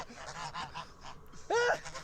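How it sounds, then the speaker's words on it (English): A goose gives a loud, harsh, angry honk near the end, rising sharply above a busier background of fainter honks and bird calls. "Did you hear the anger in that goose's honk?"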